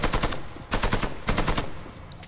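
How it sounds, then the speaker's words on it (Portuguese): Bursts of AK-103 automatic rifle fire in the video game Warface: three short, loud rapid-fire volleys with brief gaps between them, close and alone. "Uma rajada, ó."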